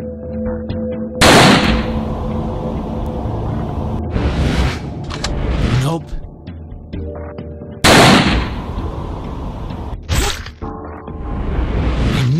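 Rapid bursts of gunfire from the zombie shooting game Range of the Dead, loud sharp blasts and rattling volleys repeating across the stretch with whooshing impacts between them, no talking.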